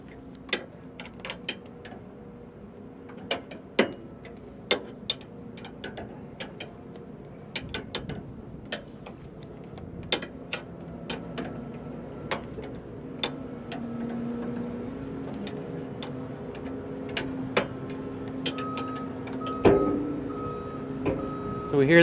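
A John Deere S700 combine rotor spinning in reverse sends out sharp, irregular metallic ticks as it catches the concave, scattered across a low mechanical hum and whir that grows louder toward the end; people talk nearby.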